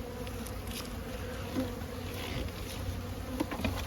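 Spring honey bee colony buzzes steadily at an open hive during a brood-chamber check, a dense, continuous drone close by with no voices over it.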